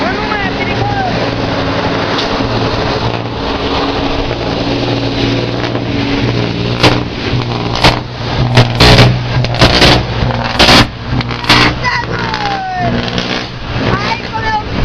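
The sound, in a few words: strong boat motor running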